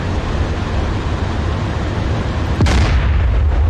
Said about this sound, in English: Goddamn tank is cooking off.